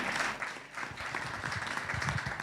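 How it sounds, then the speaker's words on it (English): Applause from a conference audience at a business event, steady broadband clapping sustained for a couple of seconds at moderate level, with faint murmuring beneath. "Ladies and gentlemen, please another round of applause for him."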